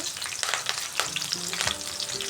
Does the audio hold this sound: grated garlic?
yes